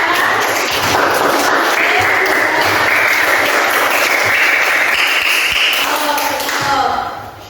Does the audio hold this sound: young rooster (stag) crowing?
no